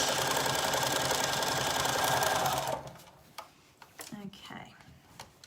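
A sewing machine stitches the elasticated waistband of a summer skirt, running in a fast, steady mechanical whir for about three seconds before stopping, followed by quiet handling noises and a voice.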